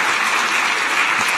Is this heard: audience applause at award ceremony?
yes